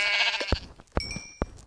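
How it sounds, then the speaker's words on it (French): A sheep in Minecraft bleats in short, clipped calls, with about three distinct bleats plus small footstep-like taps, close and clear with no talking. "Là un mouton."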